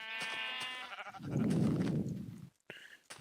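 Sheep bleating in the Minecraft video game: a wavering, nasal bleat followed by a rougher, lower burst, close and clear with no talk over it.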